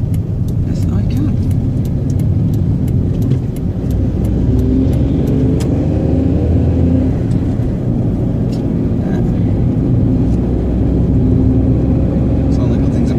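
Car accelerating uphill to overtake a tractor on a long, dead-straight road, once the old A1: steady, loud engine drone with road and wind noise throughout, no break or pause.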